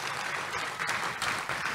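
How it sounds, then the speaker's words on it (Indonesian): A church congregation applauds during a sermon, a brief burst of dense, lively clapping at steady volume. "Tepuk tangan dulu yang meriah buat Tuhan Yesus."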